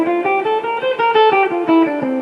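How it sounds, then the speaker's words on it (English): Guitar running up the C Mixolydian mode in fifth position, the root C fretted with the fourth finger on the sixth string, clear single notes picked one after another at an even pace, close and alone. "So here's C Mixolydian mode, position 5."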